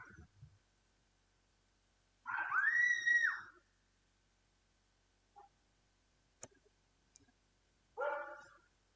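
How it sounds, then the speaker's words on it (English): A dog out in the woods gives a loud drawn-out yelp or bark, then after a pause a single clipped bark; a few faint knocks fall in the quiet between them. "Now we're waiting for the dog to come running out of the woods."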